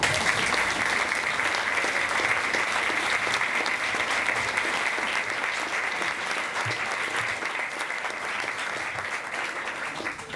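Steady, sustained applause from a seated audience at an author reading by Susann Pásztor in Heidelberg, a dense even clapping that holds at a constant level throughout with a few faint crowd murmurs.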